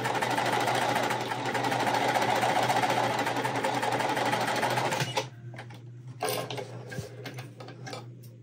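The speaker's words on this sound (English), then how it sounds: "Then I'm gonna just chain stitch." A sewing machine chain stitches pieces of a small lemonade quilt block, running loud and steady for about five seconds, then stopping, with only a few faint handling clicks and scattered light noises after.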